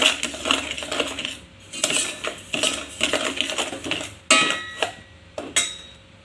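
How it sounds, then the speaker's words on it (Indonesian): A utensil stirs a powdered agar-agar mixture in a metal pot, scraping and clinking against the sides in steady, repeated strokes, loud and close, with no voice. "Kemudian aduk-aduk hingga tercampur merata supaya nanti tidak ada agar yang menggumpal ya teman-teman"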